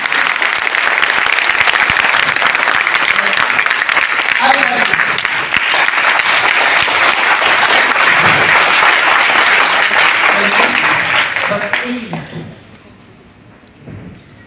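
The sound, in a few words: audience clapping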